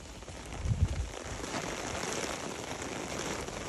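Rain falling steadily outdoors near a dam on Mount Butler, a soft continuous hiss with a few louder patters near the start, with no one speaking.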